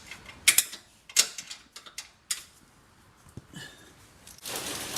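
A wrench ratchets on a 13mm sway bar bolt under a Chevrolet Camaro SS, giving short bursts of close metallic clicking that come in separate spurts with pauses between them, then a longer rasping run at the end.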